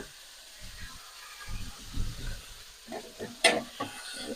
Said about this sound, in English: And that sizzle means it's beautiful and hot